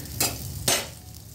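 Bitter gourd frying in a pan, with two sharp bursts of sizzling as the pieces are stirred, each stir flaring loud then settling into a softer crackle close by.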